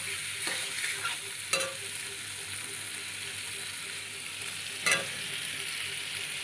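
Potatoes and liver fry in a pan with a steady sizzle, broken by a few sharp scrapes of stirring near the start and another near the end.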